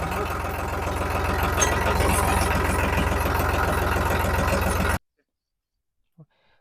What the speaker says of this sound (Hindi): मैं जो हूँ अपने न्यू हॉलैंड को है ना मीडियम दूसरा में और 1500 आरपीएम में जुताई करता हूँ दोस्तों